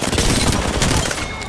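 A loud, dense burst of rapid gunfire crackles continuously, automatic weapons in the video game Apex Legends, with no talking.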